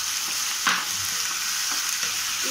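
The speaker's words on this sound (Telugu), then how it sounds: "ఇది కొంచెం గోల్డెన్ కలర్ వచ్చే వరకు బాగా వేయించుకోవాలి" Onion paste frying and being stirred for mutton keema, a dense steady sizzle close up with a brief louder scrape of the spoon near the start.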